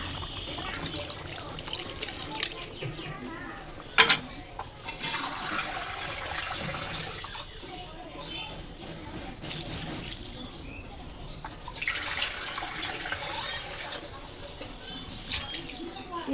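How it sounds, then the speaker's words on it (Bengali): Water poured into a pot of village-style beef curry as gravy is added, heard as several rushing, splashing bursts separated by short pauses. "পানি দিয়ে দিলাম।"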